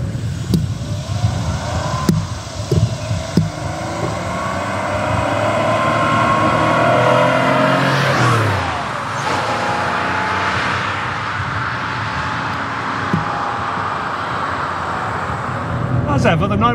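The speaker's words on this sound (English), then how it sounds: "And that wailing of the flat six, the air-cooled flat six, I should say, right?" An air-cooled flat-six in an old Porsche 911 hot rod revs and wails, rising in pitch then falling back to a steady drone, loud and near, with someone talking over parts of it.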